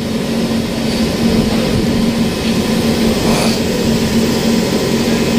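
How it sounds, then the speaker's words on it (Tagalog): A vehicle engine runs loudly and continuously at a steady pitch, close by, with a constant droning hum and no pauses. "Maingay po kasi yung makina ng Nororo."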